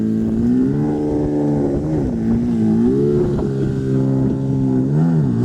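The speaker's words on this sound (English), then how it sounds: "let's go ahead and get the car spun round onto the drive" A Nissan 350Z idles and revs at low speed while being manoeuvred onto a driveway, a steady close engine drone with a few gentle rises in pitch and no talking.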